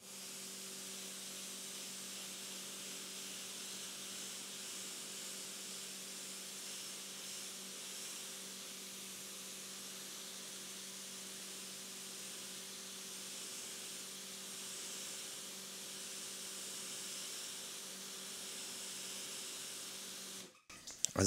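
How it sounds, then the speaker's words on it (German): A pressure sprayer hisses steadily over a car in a self-service wash bay, a continuous even spray lasting about twenty seconds before cutting off abruptly at the end, with a faint mechanical hum beneath. "Einfach nochmal drüber gesprüht für euch, das Bild vorher."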